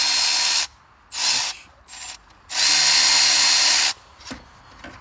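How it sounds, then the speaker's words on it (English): A Milwaukee electric ratchet loosens bolts on a Mercedes E250 during a water pump replacement, whirring loudly in several close bursts of varying length with short pauses between them. "We're going to use a Milwaukee electric ratchet."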